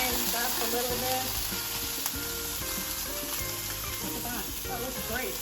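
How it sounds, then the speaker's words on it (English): Pork tenderloin sears in a hot pan, with a steady, loud sizzle of frying running throughout, occasional stirring or shifting of the meat, and faint background noise. "I'm just going to try and sear them on the sides now"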